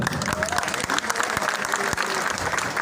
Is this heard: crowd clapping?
yes